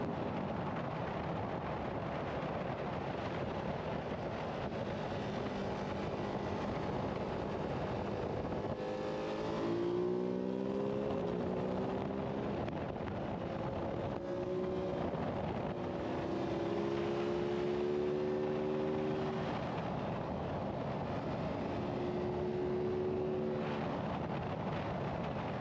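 A Ducati Hypermotard 698 Mono single-cylinder motorcycle drag racing, its engine droning steadily with rising and falling revs amid constant wind rush, heard from onboard.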